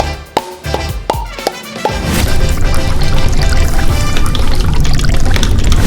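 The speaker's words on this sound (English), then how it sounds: "I poured out all the gunk" Thick gunk pours and splashes out of plastic tubes from a MrBeast Lab Swarm Alpha Series toy, starting with a few sharp taps and clunks, then settling into a steady, close, loud liquid pour that runs to the end.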